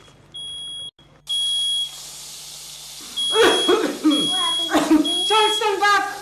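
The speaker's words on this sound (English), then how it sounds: "That's my smoke alarm." A household smoke alarm sounds in long, loud, high-pitched electronic beeps, a few separate tones near the start and then repeating beeps continuing under a person talking.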